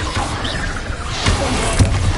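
A Confringo blasting spell cast in Hogwarts Legacy, heard as a loud, close whooshing rush that ends in crashing, shattering impacts, with two sharp hits near the end.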